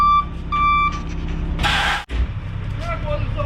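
A truck at a house demolition site with a mini excavator sounds a few loud, evenly spaced reversing beeps, then a hiss of air brakes, under a low engine idle.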